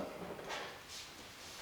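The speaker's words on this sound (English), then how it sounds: "the drawers are going to just roll in" Wooden storage drawer with a walnut face frame rolling into place under a bed without mounting hardware, a soft, low sliding rumble with faint swishes, fairly quiet.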